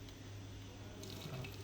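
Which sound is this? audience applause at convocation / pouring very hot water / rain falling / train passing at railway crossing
pouring very hot water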